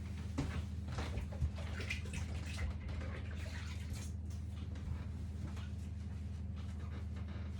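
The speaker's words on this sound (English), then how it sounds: "I'll just wash my hands." Steady running water from a tap while hands are washed at a kitchen sink, a continuous broadband rush with small splashy fluctuations, close and moderately quiet, no talking.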